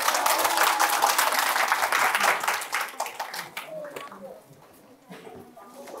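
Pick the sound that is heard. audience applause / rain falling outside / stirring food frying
audience applause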